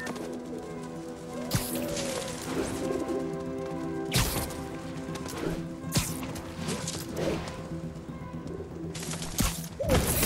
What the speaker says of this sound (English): Stupid pigeons, come here.